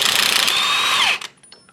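Power tool spinning off a rear axle pinion nut on a 28-spline yoke, a loud close whine with a rattling impact burst that winds down sharply and stops, leaving quiet shop noise.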